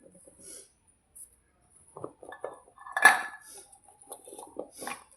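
Mango pieces for Andhra avakaya pickle being tossed and mixed in a metal vessel, giving scattered clinks and scrapes of utensil against pot, moderately close, with quiet pauses between bursts.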